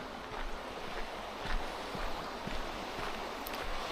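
Rushing water of the Triphammer rapids on Piney Fork along the Montour Trail, a steady broadband roar of flowing water with some wind buffeting, close and continuous with no voices.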